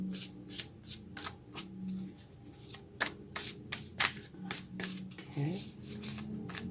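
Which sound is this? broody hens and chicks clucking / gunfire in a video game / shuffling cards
shuffling cards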